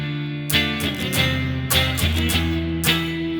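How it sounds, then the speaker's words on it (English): A Fender Player Plus Stratocaster electric guitar on its neck pickup rings out a short run of plucked notes and chords, warm and sustained, played alone and close up. "I think I like the neck sound a lot, which I think may be like a classic position on a Strat"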